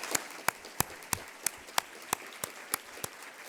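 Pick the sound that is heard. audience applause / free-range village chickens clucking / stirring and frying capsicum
audience applause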